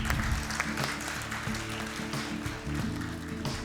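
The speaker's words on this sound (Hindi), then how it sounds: "मैं चाहूँगा कि उन लोगों के लिए एक ज़ोरदार ताली बजनी चाहिए" An audience at a doctorate conferral ceremony for an international open and online university applauds steadily, a dense wash of clapping throughout with no break.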